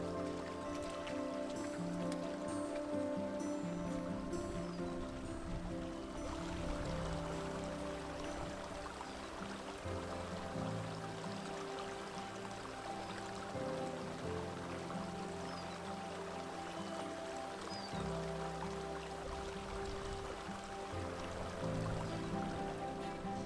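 Meltwater rushing through a full creek on a hiking route, a continuous, even wash of flowing water heard from a moderate distance with no break.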